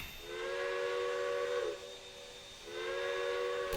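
Steam whistle of a Western Pacific Mallet (Challenger) articulated locomotive, two long harmonic-rich blasts with a short gap, loud and clear over a faint hiss, no talking.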